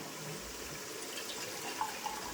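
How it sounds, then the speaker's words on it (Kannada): Water pours steadily into a large cooking pot, a continuous close rushing splash that lasts the whole stretch with no voices. "ಈಗ ಇದಕ್ಕೆ ನೀರು ಹಾಕೊಳ್ಳೋಣ"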